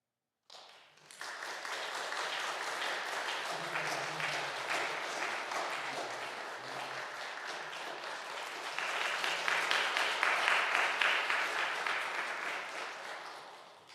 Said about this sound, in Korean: 여러분들 격려의 박수 좀 쳐주시길 바랍니다